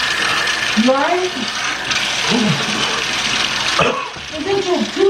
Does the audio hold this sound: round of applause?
no